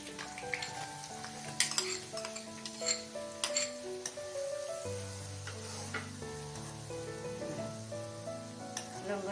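Ginger and garlic sizzle in hot oil for a raw mango pickle, a steady close frying hiss that runs throughout beneath prominent background music.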